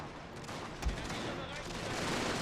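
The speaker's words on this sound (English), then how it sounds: "Can I get concentrated fire over here?" Massed rifle fire in a Prussian strategy game battle against Gurkha troops: a dense, distant crackle of overlapping gunshots with one heavier thud, running under quiet talk.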